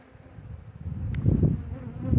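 A honey bee swarm buzzing in a low, dense drone that grows louder over a couple of seconds.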